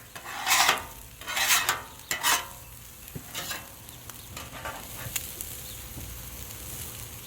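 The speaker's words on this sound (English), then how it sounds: "I'm going to scrape a little bit of this off right here" A metal spatula scrapes a pan beside a frying pork chop, in several rough scraping bursts over a steady low sizzle, then quieter sizzling continues alone.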